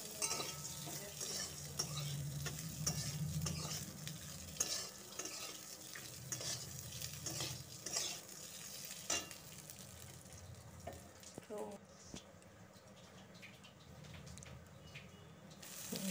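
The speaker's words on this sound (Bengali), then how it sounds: "এবার ভাতগুলো দিয়ে নাড়াচাড়া করব।" Cooked rice stirred into a frying pan for fried rice, with a steady hiss of frying and frequent scraping and clinking of a spatula, close and fairly quiet, the sizzle easing toward the end.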